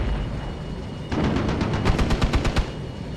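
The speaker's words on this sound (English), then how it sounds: "looks like tons of small arms fire" Small arms fire in the war strategy game Armored Brigade 2 during an urban strike mission: a quick rattle of shots breaks out, then a string of distinct, punchy reports over a steady rumbling background.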